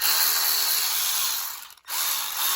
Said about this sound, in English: Nice electric ratchet.